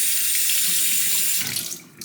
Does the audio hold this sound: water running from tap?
yes